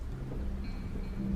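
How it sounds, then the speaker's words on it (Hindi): Heavy rain pours steadily while low thunder rumbles beneath it, a dense, constant wash of noise with no voices over it. "बारिश बहुत तेज हो रही है ना।"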